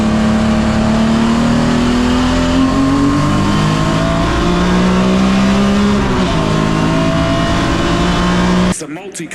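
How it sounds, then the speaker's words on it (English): Loud, close engine roar of racing cars accelerating away behind a safety car at Donington Park, pitch climbing and shifting as several engines rev together, cutting off abruptly at the end. "So safety car now accelerates away from the field."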